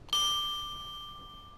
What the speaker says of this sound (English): I just have to ring this bell